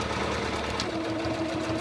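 A sewing machine runs steadily up close, stitching an elastic anchor onto an AppleCheeks cloth diaper with a continuous loud motor whir and rapid needle clatter, no talking.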